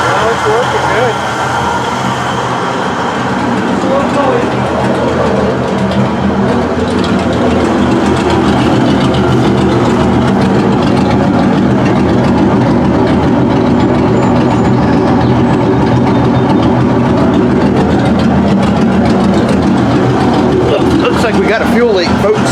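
A project Camaro's engine runs loud and steady with a dense low rumble and a fuel leak, never dropping off, while people talk over it.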